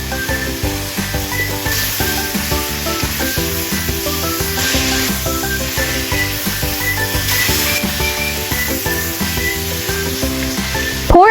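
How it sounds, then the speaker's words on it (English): Steady sizzling and frying from a hot pan as wood ear mushrooms are stir-fried, with continuous hiss and occasional scraping, loud and close throughout. "Add the wood ear mushrooms and stir-fry everything together."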